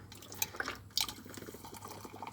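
Boiling-hot water poured over about two spoonfuls of loose tea leaves for Thai milk tea, a close liquid trickle and splash with a few sharp drips, no talking.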